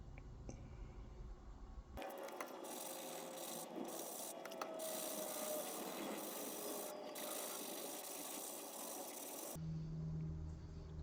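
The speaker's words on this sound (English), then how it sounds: "So we'll sand it up, get it nice and smooth." A forged steel blade for a curved hunting knife is sanded by hand, a steady scratchy rubbing rasp running continuously for about eight seconds, close and fairly loud, with quieter room tone before and after.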